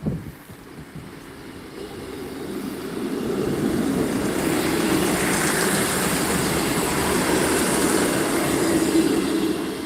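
A Class 158 diesel train from Sheffield passes in Lincoln with a rising, steady roar of engine and wheels on the rails that builds and holds loud for several seconds, and no voices are heard.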